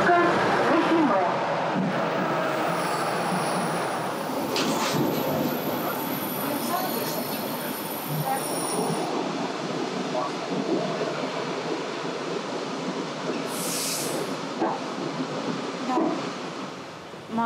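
Electric commuter train rolling along rails, a steady rumbling clatter with wheel noise throughout, heard from inside, with a brief high squeal near the end.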